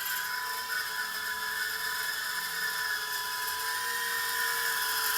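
The tiny brushless motors of an Eachine Turbine QX70 micro quadcopter drone spin steadily after arming, giving a loud, close, high-pitched whine with buzzing overtones that holds even throughout.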